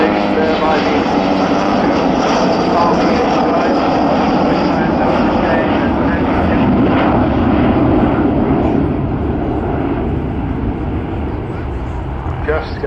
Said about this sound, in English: just get a little suspicion of Vulcan's engine slightly opening up there